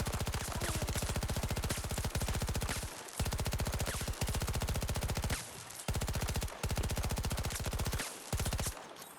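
Rapid automatic gunfire from Battlefield 2042, loud sustained bursts of closely spaced shots with brief pauses between volleys, no talking.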